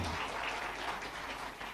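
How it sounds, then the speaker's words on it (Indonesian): Dense, steady applause from an audience at a Ramadan fast-breaking gathering honoring PAN chairman Zulkifli Hasan, a continuous wash of many clapping hands at even loudness throughout. "tepuk tangan untuk Papi Zulkifli Hasan."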